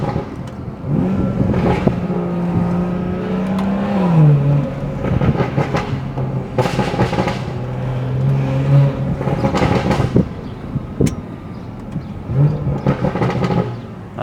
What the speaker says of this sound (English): Let me do a little bit of burbles for you guys before it's gone